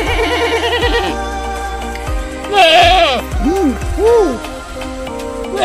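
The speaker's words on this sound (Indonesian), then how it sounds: "Di sini pun ada kambing." Goats at a farm bleat loudly and close by, several wavering calls in quick succession.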